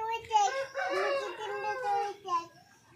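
A rooster crows close by at a rural home, one drawn-out rising and falling call lasting a few seconds, with faint clucking around it.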